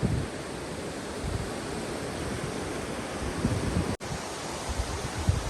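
A mountain waterfall near the Pindar river roars as a steady, dense rush of falling water, constant and fairly loud with no voices.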